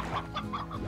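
A rooster in the video game Slime Rancher gives a short burst of quick, close clucks with no talking.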